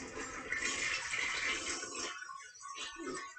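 Toilet flushing close by: a loud rushing surge of water for about two seconds, then gurgling and trickling as the bowl drains and refills.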